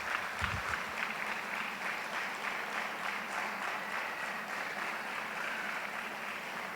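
A church congregation applauds, a dense, steady wash of many hands clapping that lasts throughout, moderately loud and continuous, with no talking over it.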